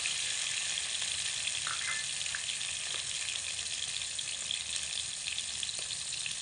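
Chopped tomato and green chillies sizzle in a pan alongside a pinch of whole cumin, giving a constant, dense frying hiss close by with a few faint clicks of stirring and no talking.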